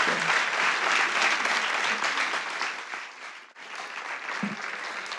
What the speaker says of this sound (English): please give our amazing speakers a round of applause